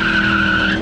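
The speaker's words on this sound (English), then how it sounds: "That's the first burnout he's ever done in his life." Tires squeal loudly as a car does a burnout on a road during a Mustang week event, a sustained close screech under a steady engine roar that holds for under a second.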